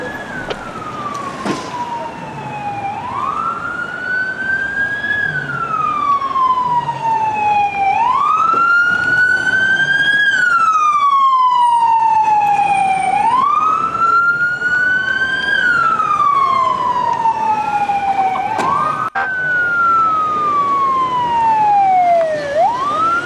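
Siren from a Los Angeles Fire Department command vehicle or police car arriving at a vehicle extrication, a loud, close wail sweeping up and down in repeated long cycles over steady road and engine rumble.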